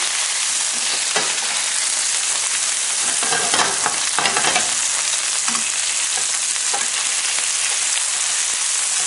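Homemade Italian sausage patties sear in a hot pan, giving a loud, steady sizzle and crackle, with a few brief spatters and scraping stirs near the middle.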